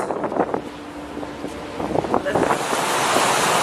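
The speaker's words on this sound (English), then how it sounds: "the Arabian Sea. And we're in a gale force 8" Gale force 8 wind and breaking waves on the Arabian Sea, a rough roar of surf and gusting wind buffeting the microphone, swelling louder toward the end.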